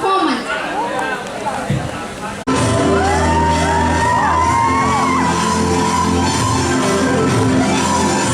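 An audience at a college freshers' cultural event cheers, whoops and shouts. A voice speaks over a music bed at first, then a loud, sustained burst of crowd noise follows.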